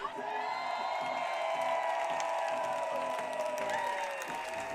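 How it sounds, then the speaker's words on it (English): Crowd cheering at a professional ultimate frisbee game in the AUDL, Los Angeles Aviators at Colorado Summit, a sustained roar of cheers and whoops heard from a distance under steady tonal noise, continuous for several seconds. "I hope you can hear the excitement from the crowd, folks."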